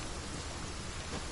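Steady rain falls in a Genshin Impact game scene, a dense, even hiss that holds from start to finish with no voices over it.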